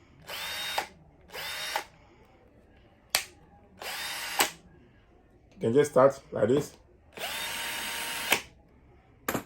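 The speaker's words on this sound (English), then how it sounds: "this is the new drilling machine in the market." A Ferrex cordless combi drill runs in several short whirring bursts of about a second each, separated by pauses, with someone talking in between the runs.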